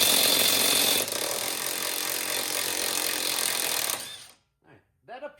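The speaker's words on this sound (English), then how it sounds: "grab the impact, pop it on there, and hopefully she just spins off" An impact wrench hammers loudly and steadily for about four seconds while removing a nut on a 2011-2018 Dodge Durango axle, then cuts off, followed by a couple of brief quieter sounds.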